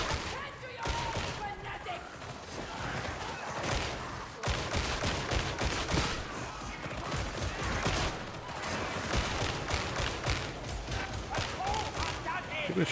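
Repeated gunfire bursts in the sci-fi shooter Warhammer 40,000: Darktide, with rapid shots and impacts forming a steady clatter under ongoing game noise and voices, fairly loud throughout.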